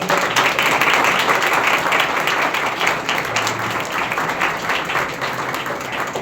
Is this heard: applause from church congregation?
yes